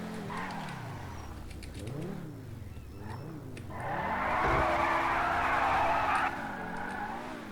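A Pegassi car in GTA V Online drives and skids, its engine note rising and falling in repeated revving sweeps before a long tire squeal and skid takes over, all loud and close with no talk.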